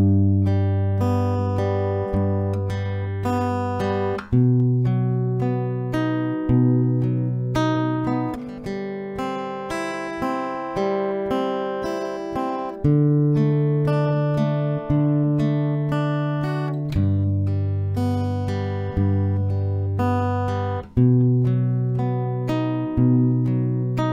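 Acoustic guitar plays a song, clear strummed and plucked chords ringing out in a steady, repeating progression, close and loud with no voice.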